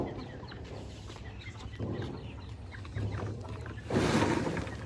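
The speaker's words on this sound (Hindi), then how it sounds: "मुर्गियां भी आ रही हैं।" Farmyard chickens clucking as they wander out of their pen alongside goats, several soft clucks at varying distances over an outdoor background, getting a bit louder toward the end, with no speech.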